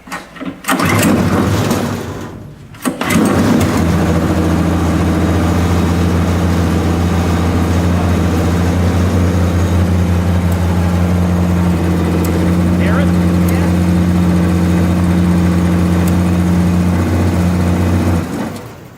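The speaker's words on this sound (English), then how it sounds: "got suction, so that means the pump is working" A sprayer pump engine starts after a couple of brief bursts, then runs loud and close at a steady low drone, humming evenly with no voices over it.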